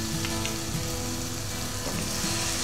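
Potatoes and drumsticks sautéed in roasted masala releasing oil, a continuous dense frying sizzle with faint stirring clicks, steady and close, no talk.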